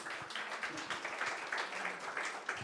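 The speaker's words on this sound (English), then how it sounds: "Big round of applause for Bera." An audience at a financial-services data analytics and AI event gives a round of applause, heard as fairly faint, scattered clapping from many hands over a few seconds.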